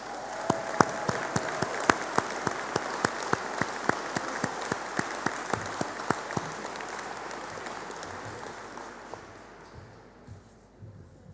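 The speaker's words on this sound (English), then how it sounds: "can you please give them a round of applause?" An audience at a university continuing-education graduation ceremony applauds steadily for several seconds, a dense wash of clapping with sharper individual claps on top, gradually fading out.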